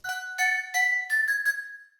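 Layered bell tones in a beat ring out in a short run of bright, chiming struck notes, several quick hits with sustained shimmering tails, clear and alone.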